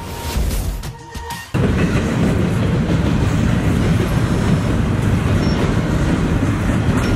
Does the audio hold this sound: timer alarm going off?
no